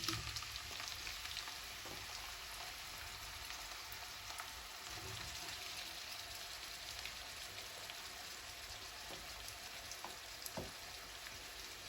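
A large chopped onion fries in a pan with a steady, dense sizzle and crackle that fills the whole stretch, with a few sharper pops and spatters rising out of the continuous hiss and no talking.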